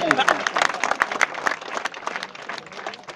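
An audience applauds at a ceremony, with individual claps clearly audible in an uneven, fairly close burst that thins out toward the end.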